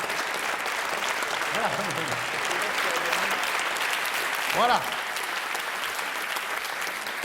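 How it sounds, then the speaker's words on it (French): Comedy show audience applauds continuously in a dense, steady wash of clapping, while a voice speaks briefly over it near the middle. "ça mérite encore des applaudissements"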